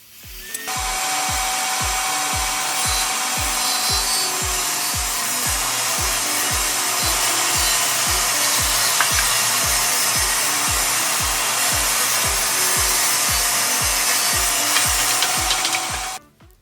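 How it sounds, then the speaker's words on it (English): A power saw rips wood boards to width for a simple mobile workbench, giving a loud, steady cutting roar with a regular low thumping pulse throughout and no talking. "I ripped all the material to that width"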